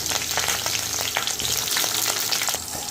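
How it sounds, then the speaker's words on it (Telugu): Capsicum pieces fry in hot oil in a pan, a loud, dense sizzle with crackling pops and stirring scrapes, close up and without talk. "ఈ లోపల మనం పన్నీరు క్యాప్సికం వేగించుకుందామండి"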